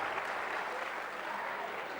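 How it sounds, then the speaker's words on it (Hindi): Lecture-hall audience applauding at a mind-management talk, a dense, steady wash of many hands clapping that holds at an even level for the whole stretch with no voices over it. "बजाइए तालियां."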